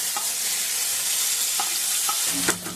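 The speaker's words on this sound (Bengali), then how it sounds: "কি সুন্দর ভাজা হয়েছে তো এইভাবে যদি চিকেন পকোড়া আপনারা ভেজে নেন" Chicken pakora deep-fries in hot oil, a close steady sizzle broken by a few light clinks and scrapes as the pieces are turned.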